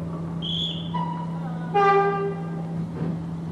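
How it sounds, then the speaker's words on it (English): Heritage train on the Keighley and Worth Valley Railway pulling out of Keighley station bound for Oxenhope, giving short horn toots against a steady low engine hum, loud and fairly close. "the former train pulls out of Keighley station, bound for Oxenhope"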